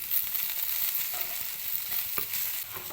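Sliced okra fries in a pan with a steady, close hiss of sizzling oil and an occasional soft stir breaking through.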